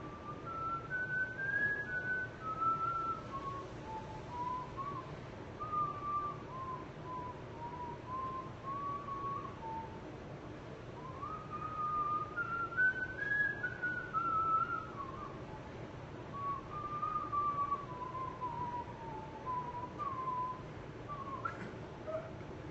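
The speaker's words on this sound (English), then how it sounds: "trying to improve my whistling technique." A person whistles a slow, wavering melody, faint against a soft background hiss, with short pauses between phrases.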